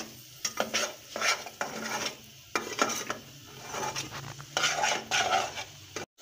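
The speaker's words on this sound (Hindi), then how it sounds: "अच्छे तरीके से हम इसको फ्राई कर लेंगे" Dates halwa fried in ghee and stirred vigorously in a pan: rhythmic bursts of scraping and sizzling come in repeated strokes with short pauses between them, close and fairly loud, with a sharp knock at the very end.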